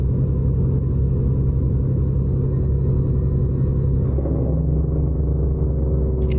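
A Detroit Series 60 diesel rated at 550 horsepower rumbles steadily in a classic Freightliner XL truck in American Truck Simulator, a constant deep, loud drone whose tone shifts slightly partway through.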